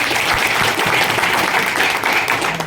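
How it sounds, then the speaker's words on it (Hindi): Audience clapping at a direct selling business motivational event, dense continuous applause filling the whole short stretch at close range. "एक बार तालियां होनी चाहिए"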